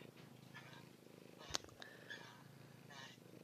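A cat purrs close by in a low, steady rumble, mixed with people talking over it and a sharp click partway through.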